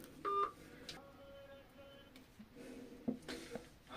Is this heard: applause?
no